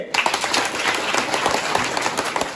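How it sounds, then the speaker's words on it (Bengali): Audience clapping at a student quiz event for Social Equality Day, a lively burst of many hands in uneven rapid rhythm with some crowd voices mixed in. "জুড়ে হাততালি।"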